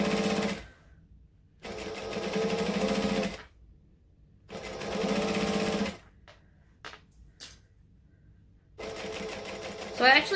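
A sewing machine stitching a strap for a Belle bag by Swoon runs in three loud sustained bursts of a few seconds each, separated by pauses with light handling clicks.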